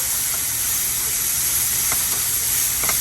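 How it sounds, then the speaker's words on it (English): Vegetables sautéing in a pan give a loud, continuous hissing sizzle with steam, steady and close, with a few faint clinks, no voices. "while our vegetables are sauteing"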